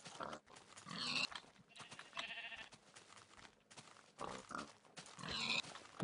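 Pigs in the Minecraft video game give a few short snorting grunts and squeals, faint and spaced apart, with no talk.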